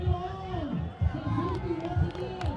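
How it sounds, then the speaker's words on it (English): A race crowd cheers and roars for a lone runner surging over the final 150 meters to the finish, a steady loud swell of voices with bursts of yelling, while a commentator talks over it. "The crowd's going nuts for him."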